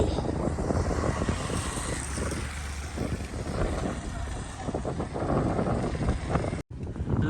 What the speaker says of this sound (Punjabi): ਹਵਾ ਚੱਲਦੀ ਆ ਕਿਤੇ ਠੰਡੀ